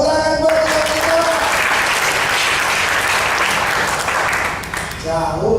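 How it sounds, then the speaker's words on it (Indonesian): A church congregation breaks into loud, sustained clapping during a sermon, with brief tones of voice or music audible at the very beginning and end. "Tepuk tangan buat kita."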